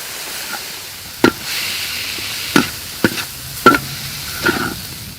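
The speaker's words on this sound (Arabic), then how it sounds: "وهسه راح اضيف البروكلي المسلوق، وراح اضيف رشة كركم وفلفل اسود" Boiled broccoli with turmeric and black pepper tossed into a pan, giving several sharp, close clatters and stirring scrapes over a soft sizzle, spaced irregularly.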